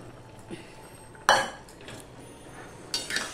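Fried chicken pieces go into boiling chilli chicken gravy in a kitchen pan, marked by one sharp metallic clank of utensil on pan and a few softer clinks and stirring sounds, fairly quiet and close.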